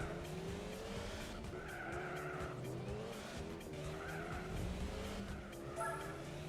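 Race cars in the Gran Turismo 4 video game, engines droning with rising and falling pitch as tires squeal in repeated skids through corners, a continuous moderately loud mix without talking.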